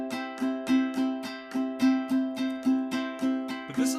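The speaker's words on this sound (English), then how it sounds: "you're going to use that nail of the thumb and come up" Ukulele strummed with upward thumbnail strokes, giving a bright, in-your-face tone, in a steady rhythm of about ten close, even strums, each chord ringing briefly before the next.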